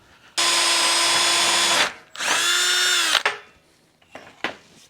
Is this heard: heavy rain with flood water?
no